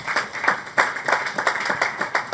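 A church congregation claps in a strong, regular rhythm, loud and close, with beats falling about three per second over a bed of continuous mixed clapping.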